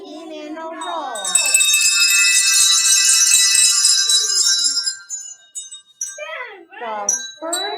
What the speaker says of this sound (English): We added bells to go along with the poem.